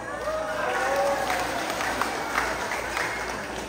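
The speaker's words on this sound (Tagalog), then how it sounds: "Sabay-sabay po natin hiyawan at sigawan ang nag-iisang Sanya Lopez" A crowd at a barangay fiesta pageant cheers and shouts continuously at fairly close range, a dense roar of voices and some clapping with a faint steady whine above.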